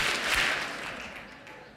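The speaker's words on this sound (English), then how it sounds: "If you're happy and you know it, clap your hands." An audience at a lecture on the study of happiness claps hands together in a short burst of applause that quickly fades.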